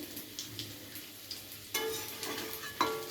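Bengali shankar fish curry gravy is stirred in a pan right after water goes in. A soft hiss and gentle scraping give way to a louder bubbling sizzle partway through, with a few light taps, close and moderately quiet.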